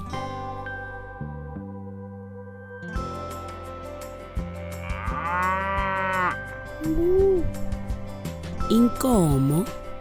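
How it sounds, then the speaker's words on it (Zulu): Cattle moo in low, drawn-out calls toward the end, set against a busy, layered background with voices present. "Inkomo."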